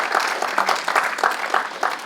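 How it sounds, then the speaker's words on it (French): A church congregation applauds together, a dense wash of clapping with a faint rhythmic pulse, steady and fairly close for about two seconds. "on peut encore l'applaudir, le Seigneur, et lui rendre grâce"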